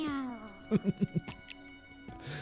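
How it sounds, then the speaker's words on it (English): Litten, a cat character in the Detective Pikachu video game, gives four short meows in quick succession at moderate volume, with a sliding tone and soft game sounds around them. "Oh, it meows."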